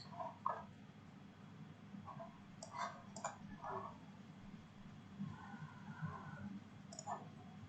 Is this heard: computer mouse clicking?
yes